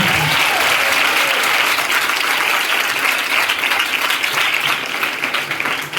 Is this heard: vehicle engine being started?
no